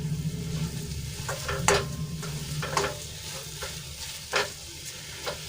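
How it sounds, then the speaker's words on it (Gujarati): Green kachori filling being stirred and mixed in a pan, a low steady sizzle broken by several sharp scrapes and knocks of a spoon against the metal. "ને બધું સરસ રીતે મિક્સ કરી લઈશું"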